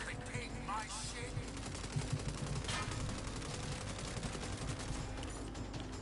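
Gunshots ring out in steady, rapid bursts that run almost continuously at moderate loudness, with voices mixed in beneath the shooting.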